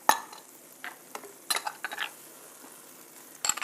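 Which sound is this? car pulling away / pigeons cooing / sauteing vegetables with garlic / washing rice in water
sauteing vegetables with garlic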